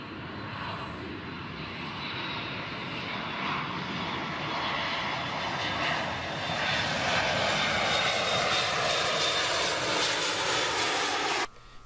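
An aircraft passes overhead with a steady, loud broadband roar that lasts the whole stretch, swelling slightly toward the end before cutting off abruptly, with no voices.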